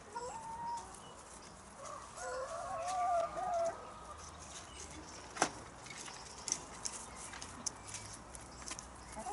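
Allotment hens cluck softly and intermittently close by, with a few sharper squawks and scattered pecking taps over quiet outdoor background.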